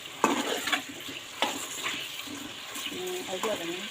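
Meat frying lightly with a little salt in a pan for aloo gosht, with a steady sizzle, scrapes and stirring knocks up close; a voice speaks briefly over it.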